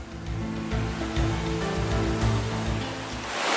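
Steady, dense rain falls in Pacitan, Indonesia, near a landslide-hit area, a continuous hiss with no pauses.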